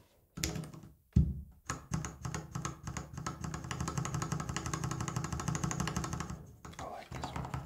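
Typing on Kali Box Red mechanical keyboard switches, a rapid run of close, crisp keystrokes in a dense rhythm, briefly separated by a few louder single presses near the start.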